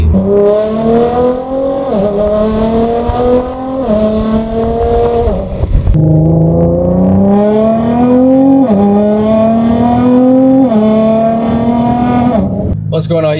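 A Nissan GT-R R35 fitted with an Fi exhaust revs and accelerates hard, its loud, close engine note climbing in pitch through repeated pulls, with brief dips at each gear change, sustained and aggressive throughout.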